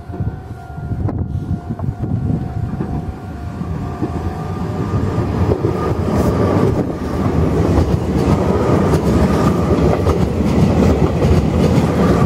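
A Meitetsu Nagoya Main Line train passes through Kano Station at moderate speed, its loud rumble and rail clatter building steadily and staying strong to the end, with no talking.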